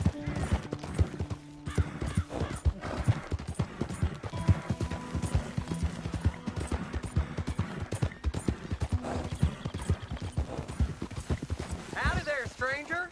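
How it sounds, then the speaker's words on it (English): Horse hooves clip-clop in a steady rhythm in the western video game Red Dead Redemption 2, close and continuous under game dialogue, with a brief whinny near the end. "that's a nice-looking horse you have there"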